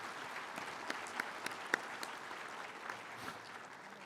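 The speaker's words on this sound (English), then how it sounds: "Let's give all those folks another round of applause." Crowd applause at a tribal State of the Band address, sustained moderately loud clapping from a large gathered audience with a few sharper individual claps standing out and no speech over it.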